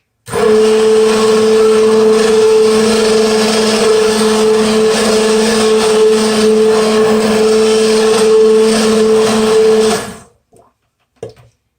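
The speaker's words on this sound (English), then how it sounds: "putting it all in a blender" A blender blends cauliflower cheese soup, running steadily at high speed with a loud, whirring motor drone for about ten seconds, then cuts off abruptly, followed by a couple of faint clicks.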